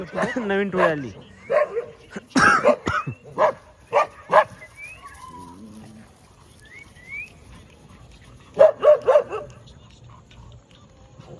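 Dogs in a residential colony let out a string of sharp barks and yips, close by, in irregular bursts, with someone talking in between.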